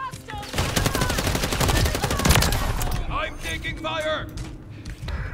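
Rapid, dense gunfire from a video game shooter, loud sustained bursts of automatic fire for the first few seconds, then scattered shots and game effects while a player talks.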